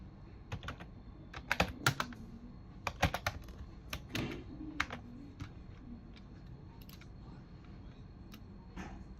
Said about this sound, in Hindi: आप टाइप करते हैं